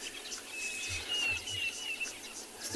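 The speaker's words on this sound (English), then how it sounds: "So many birds calling at the moment." Several birds call over a soft outdoor ambience at sunset in the Tswalu Kalahari reserve, with a thin, steady whistle running through the middle and scattered chirps around it.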